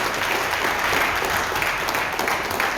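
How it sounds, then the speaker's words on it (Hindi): Loud, sustained applause from an audience at a leadership training session, a continuous dense wash of many hands clapping with no speech on top. "और इसके लिए जोरदार तालियां होनी चाहिए"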